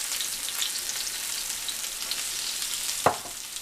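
Garlic and paprika fry in a hot, oily pan with a steady, close sizzle, and a single sharp stir or scrape of the utensil stands out near the end.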